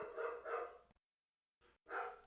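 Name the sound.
dog barking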